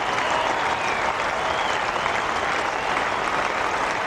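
Cricket crowd at Old Trafford applauds a test century, a steady wash of clapping from a large stadium audience that holds at an even level throughout.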